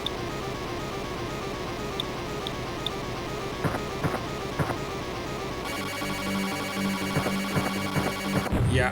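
Music and sound effects from the 32X version of the video game Blackthorne, with a steady synthesized soundtrack, scattered percussive hits and a fuller, denser passage in the last few seconds.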